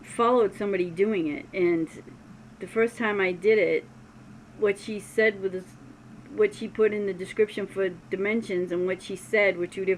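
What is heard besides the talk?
No distinct noise like a dog, phone or traffic.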